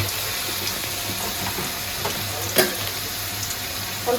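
Turmeric and spices fry with yardlong beans and potato in a pan, giving a steady soft sizzle with a few faint stirring clicks and one sharper scrape partway through, no voices.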